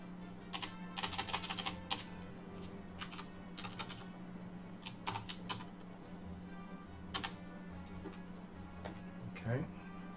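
Computer keyboard typing comes in scattered bursts of quick clicking keystrokes, close and fairly crisp, with pauses between flurries over a low steady hum.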